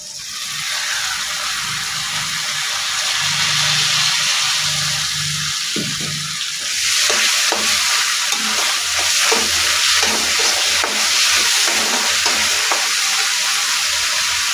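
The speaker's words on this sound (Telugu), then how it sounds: "ఇవన్నీ వేసుకొని ఒకసారి బాగా కలుపుకోవాలి" Spices being stirred in a pan while making palakova milk sweet, with steady sizzling and scraping that grows busier and louder halfway through, close and alone without talk.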